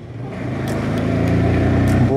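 A sports motorcycle is ridden on a rough road, its engine droning steadily and building slightly, with wind noise and faint voices underneath.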